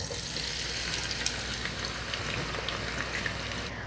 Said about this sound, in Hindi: अब ऑयल जो है हमारा थोड़ा सा गर्म हो गया, अब इसके अंदर हम लोग प्याज डाल देंगे